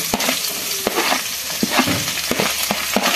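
Onions frying for a soya gravy, a busy close sizzle broken by repeated sharp scrapes and knocks of a spoon stirring in the pan, no voices.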